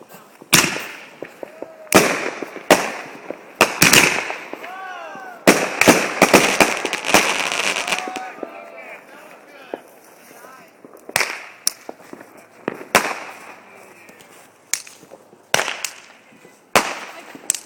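New Year's fireworks fired from launchers in Anchorage, repeated sharp bangs and crackling bursts, some whistling, spaced unevenly at close to middle distance, with people talking between blasts.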